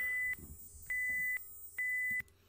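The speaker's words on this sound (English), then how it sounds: "I don't know if that sound is just a countdown sound or if that is actually a sound file from the actual song." Countdown beeps in a music teaser, three steady electronic tones of equal pitch, each about half a second long and evenly spaced, clear and prominent over a quiet low background.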